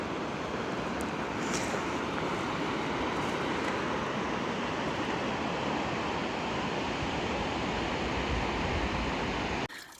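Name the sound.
fast-flowing river water and rapids on the Appalachian Trail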